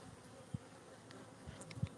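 Honey bees hum faintly around the hive, a soft steady buzz broken by a few brief low thumps.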